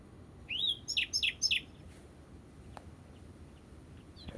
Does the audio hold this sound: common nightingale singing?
yes